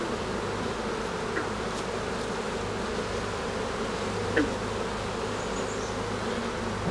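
Honey bees buzzing around an open hive during frame handling in an apiary; a dense, continuous hum close by, with occasional louder individual bees passing, no talking.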